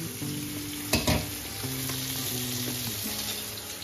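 Pomfret fish fries in a pan with a steady, close, continuous sizzle and crackle, broken by a brief louder spitting burst about a second in. A low hum runs underneath.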